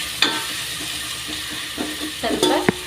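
Methi palya chakli ingredients fry in a pan, a close soft sizzle with several scraping stirs and a few sharp clinks of a spoon against the pan.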